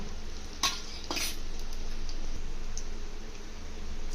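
Dried red chillies hit hot oil with tempering seeds, giving a soft, steady sizzle with a couple of sharp utensil clinks near the start, fairly quiet and close.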